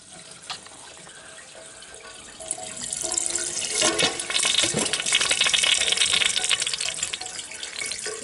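Pressurized water gushes from an open hot water supply line during interior finishing work, a steady loud rush that swells and intensifies after a couple of seconds and keeps spraying hard to the end.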